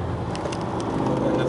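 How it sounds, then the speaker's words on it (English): A race car brakes hard and downshifts at Lime Rock during a 2009 NCWS East race, heard from inside as a loud, steady, rough roar of engine and road noise over a brief moment. "Heavy braking. Downshifting."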